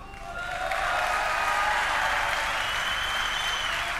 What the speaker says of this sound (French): Applaudissez pas, j'ai pas le temps.